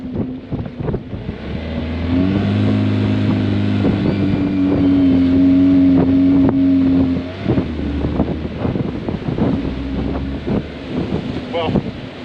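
A 2008 Lund Explorer 182 boat runs over waves with its outboard motor droning steadily, joined by buffeting wind on the microphone and slapping thumps from the hull, loud and close throughout.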